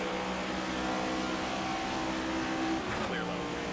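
Race car engine in NASCAR 25 climbing back up through the gears mid-race, a steady loud droning whine that holds throughout, with a quick shift near the end, while a voice talks over it.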